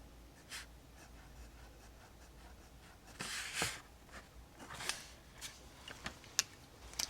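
Fine-nib fountain pen scratching across paper in short strokes and taps, faint and close, with quiet gaps between bursts and no speech.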